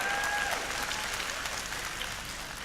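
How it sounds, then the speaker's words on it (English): An audience applauds at a motivational talk, a short burst of dense clapping that stays fairly even and slowly tapers, with no voices on top. "Worth an applause."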